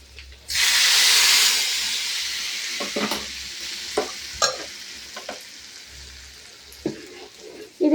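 Vadagam drops into hot ghee with a loud burst of sizzling that settles into a quieter, steady fry, punctuated by clinks and scrapes of stirring in the pan.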